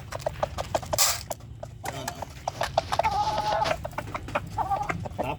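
A rooster clucks repeatedly close by, short sharp bursts in an uneven rhythm, with a louder squawk near the start.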